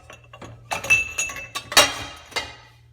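A drinking glass in a home kitchen in Antigua, Guatemala, clinks and rings in a string of sharp, close taps as it is handled and set down on a hard surface, with short silences between the bright knocks.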